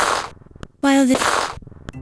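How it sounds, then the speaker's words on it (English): Several gunshots ring out close by in the adventure game The Dagger of Amon Ra: sharp, brief cracks scattered among a louder broadband burst, with spoken voice around them. "Several gunshots ring out close by."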